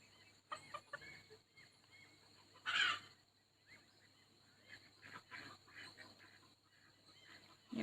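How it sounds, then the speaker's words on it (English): A small Belgian d'Uccle rooster wanders a farmyard shared with ducklings and geese, giving scattered soft clucks and calls, with one louder, sharper burst midway and a further call at the very end. "And a little Belgian D'uccle Rooster that wanders around."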